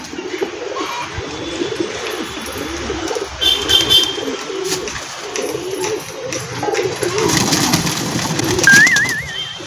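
Pigeons coo close by in soft, repeated throaty calls, mixed with wing flutters and brief bursts of flapping as birds land, over outdoor background noise.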